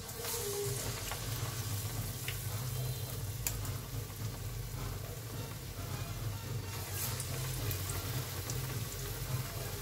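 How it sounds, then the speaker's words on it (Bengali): Battered eggplant fritters (beguni) fry in oil with a steady, dense sizzle and crackle that runs evenly throughout, fairly close and continuous with no talking. "এখন এই যে বেগুনি ভেজে নিচ্ছি।"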